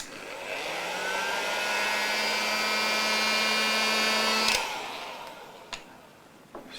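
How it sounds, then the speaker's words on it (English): A hot air blower, used during a pickup swap on a Hartwood 335-style guitar, runs as a steady whining whoosh for several seconds before cutting off, followed by a few light clicks and handling knocks. "So I'm going to use the hot air blower for this bit."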